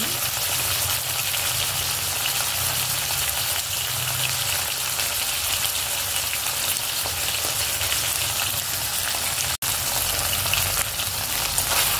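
Three spoons of a secret spice masala sizzle and fry steadily in a hot pan for a Khandeshi patodi dish, with a continuous close crackle and no talk.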